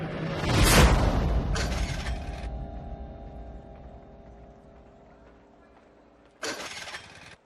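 A broken-down scooter's engine tries to start with a harsh, noisy burst that sputters and fades over several seconds, then a second abrupt cranking burst cuts in near the end.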